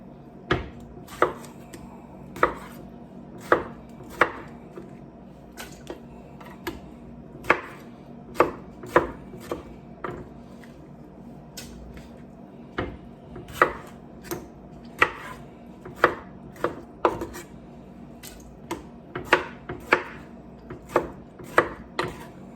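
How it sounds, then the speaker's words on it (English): A knife chops tomatoes on a cutting board for soup, sharp regular strikes repeating steadily close by with no talk. "All we're doing is cutting up tomatoes."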